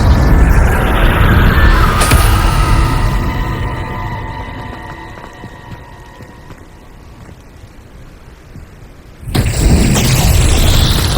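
A Confringo spell explosion in the Hogwarts Legacy video game: a heavy boom bursts out near the start, its rumble fades over several seconds, and a second loud blast hits near the end.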